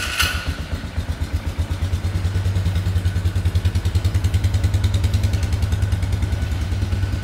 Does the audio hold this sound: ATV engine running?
yes